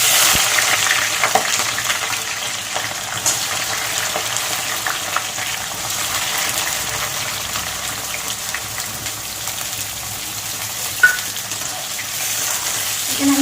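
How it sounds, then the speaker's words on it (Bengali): Chopped onions hitting hot oil in a pan for rajma with chicken, a steady, close sizzle and crackle that runs on evenly with a few small stirring clicks. "এবার দিয়ে দেবো কেটে রাখা পেঁয়াজ।"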